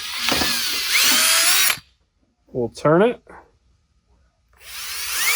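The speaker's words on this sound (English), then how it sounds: "So we'll go ahead and drill through." A power drill bores holes through a diesel fuel pickup tube during an Airdog DF-220-5G install on a Cummins, loud whining bursts at the start and end, with a short spoken phrase in the quiet gap between them.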